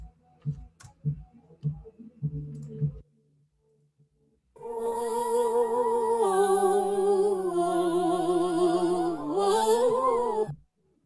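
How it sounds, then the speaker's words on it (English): Several sung voices blend in unison on a sustained, wavering melody, lasting several seconds after a few short clicks and taps. "So it sounds like multiple voices doing the one thing she's doing."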